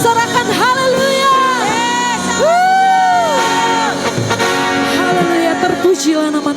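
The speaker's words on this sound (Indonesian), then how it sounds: "Sorakan haleluya" A church congregation at a Sunday service bursts into loud cheering, whoops and shouts of hallelujah, a dense crowd roar with rising and falling cries, close and sustained.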